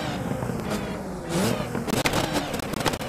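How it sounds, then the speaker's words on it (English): A car's exhaust in the mobile game Car Parking Multiplayer 2 crackles with several sharp pops and bangs over a revving engine, the loud bursts coming in irregular clusters with no talk. "it's doing both pops and bangs now"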